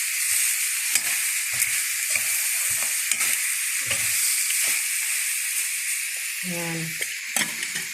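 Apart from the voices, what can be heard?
vegetable oil sizzling while stirring in a pan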